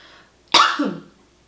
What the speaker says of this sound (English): I know I coughed.